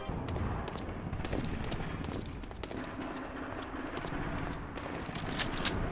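Stray gunshots pop in the distance in Medal of Honor: Allied Assault, scattered irregular cracks and short bursts over a steady battle ambience, with no voices.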